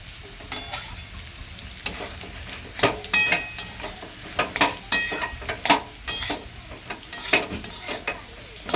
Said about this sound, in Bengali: পেঁয়াজ দিয়ে পেঁয়াজটা লাল লাল করে ভেজে নেব